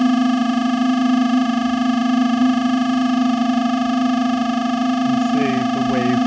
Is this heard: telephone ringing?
no